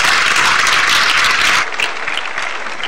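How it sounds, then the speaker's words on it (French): Loud audience applause at a French comedy show, dense and sustained clapping that thins slightly toward the end, with no talking over it. "Applaudissez-vous."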